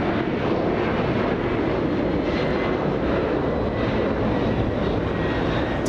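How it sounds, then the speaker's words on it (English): Boeing 767-300 jet airliner departing Los Angeles International Airport, a loud broad engine roar that holds steady throughout without any voices. "767 now, this one flying to JFK"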